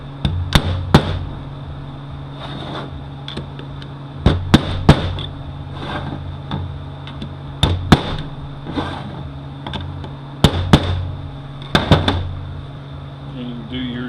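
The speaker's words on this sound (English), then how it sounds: "I just take a screwdriver and a hammer and I work" Hammer striking a screwdriver to drive a return-spring part into a 5-45RFE transmission during a rebuild, sharp metallic taps arriving in quick clusters of two or three between pauses, close and loud, with someone talking between them.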